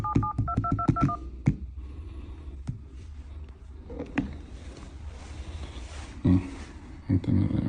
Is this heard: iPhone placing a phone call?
yes